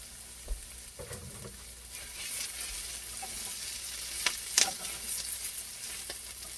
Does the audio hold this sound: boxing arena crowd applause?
no